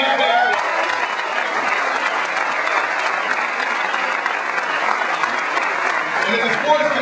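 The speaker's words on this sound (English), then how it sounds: "let's give a big round of applause for the great family." Large crowd at a statewide political rally for Obama bursts into sustained, loud applause, a steady wash of clapping and cheering that holds for several seconds without letting up.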